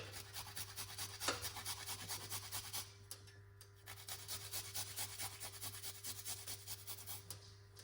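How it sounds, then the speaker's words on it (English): Garlic being grated for a garlic, ginger and okra tea, a steady run of close, rhythmic rasping strokes that stays fairly even throughout, with a short pause near the middle and no talking over it. "Let's grate the garlic."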